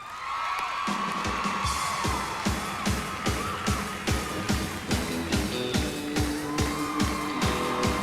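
A country concert audience applauds and cheers for a singer as he takes the stage, sustained clapping and whoops under loud rhythmic drums and band music that dominate throughout.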